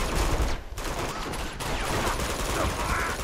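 Dense gunfire in Uncharted 2: Among Thieves, a steady broadband barrage of shots and bursts filling the whole moment with no clear gaps, loud and close.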